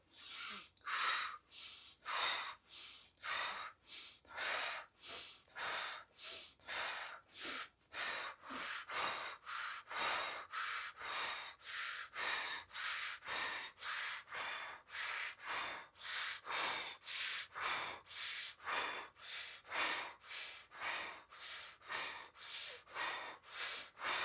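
Rapid, rhythmic inhales and exhales of Pilates breathing repeat steadily for the whole stretch, each breath a close, airy burst with no talking.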